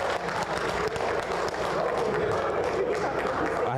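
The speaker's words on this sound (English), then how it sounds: "I don't know why these people are just clapping for you up and down." Audience at a school election debate claps steadily, a dense continuous patter of many hands with crowd noise and voices mixed in.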